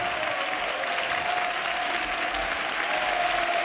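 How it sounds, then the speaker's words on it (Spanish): An audience on a Spanish television game show applauds the losing contestants, steady dense clapping that carries on throughout at a moderate level with no pauses. "aplauso a nuestros perdedores."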